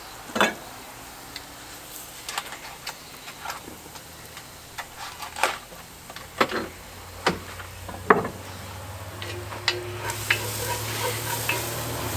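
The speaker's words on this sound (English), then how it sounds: "While we're waiting for the onion to fry off a bit" Onion fries in a pan on a camp stove while a utensil stirs it, with a steady sizzle beneath repeated sharp scraping clicks spread irregularly through the clip, close and fairly loud.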